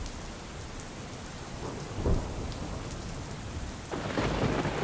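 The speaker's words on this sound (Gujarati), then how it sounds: "સુરતમાં ધોધમાર વરસાદ છે" Heavy rain pouring in Surat with thunder, a steady rush of rainfall and a low rumbling clap around the middle, then the downpour swells louder toward the end, no talking.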